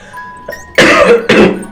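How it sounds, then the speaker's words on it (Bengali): Two loud, harsh coughs close to the microphone, one right after the other, following a brief faint tone and a small throat sound. "ঘন ঘন হচ্ছে কাশি"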